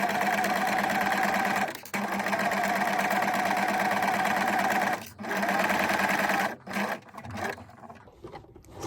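A sewing machine stitches fine fabric for a frill top in a steady, close whirring run, pausing briefly twice before slowing to stop-start bursts at the end, with no talk.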